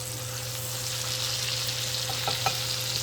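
Blackened fish sizzles steadily in a hot pan, with a soft clatter or two as it is flipped over, close and continuous with no voices.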